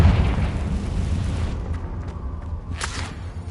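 A Confringo fire curse explodes in Hogwarts Legacy, a deep rumbling boom that rolls and fades over a few seconds, with a brief whooshing burst near the end.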